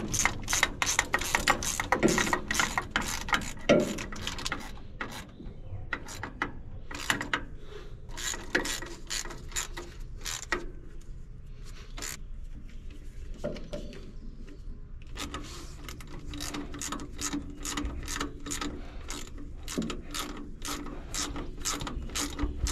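Hand ratchet clicking in rapid bursts while tightening a bolt on a Bomag BW213 compactor, the sharp pawl ticks close and repeated with brief pauses between strokes.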